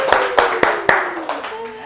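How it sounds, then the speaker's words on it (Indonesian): Audience clapping during an Indonesian election-commission podcast, a few sharp, separate claps in a steady rhythm, close and fairly loud, with a sustained tone running underneath. "Boleh tepuk tangan teman pemilih."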